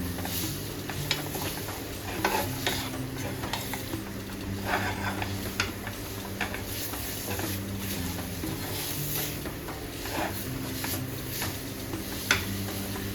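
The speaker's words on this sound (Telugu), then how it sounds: "ఇలా ఎక్కడ ఉండలు కట్టకుండా ఇలా కలుపుకోవాలి." A spoon stirs a thick banana bonda batter in a pan, giving a steady close scraping and soft sticky patter throughout, with a faint low hum underneath and no voices.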